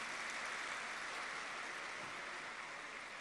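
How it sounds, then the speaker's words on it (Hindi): Steady, dense applause from a crowd, continuous and even throughout, heard from a distance. "जोर से ताली बजाओ।"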